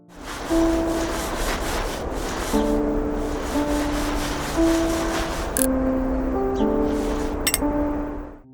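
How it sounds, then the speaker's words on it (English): Repeated rough scrubbing and rubbing strokes on various surfaces in the cleaning video game Undusted, fairly close and continuous, with soft melodic music notes playing underneath. "the sound of scrubbing all these different surfaces, it was honestly so oddly satisfying"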